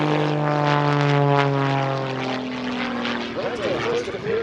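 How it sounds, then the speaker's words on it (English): Propeller aerobatic airplane at the Abbotsford Airshow rolling on a vertical climb, its engine drone loud and shifting in pitch while an announcer talks over it. "Rolling the airplane on that vertical."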